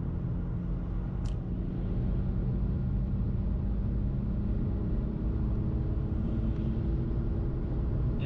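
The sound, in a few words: rebuilt BMW N52 engine doing a 75% throttle pull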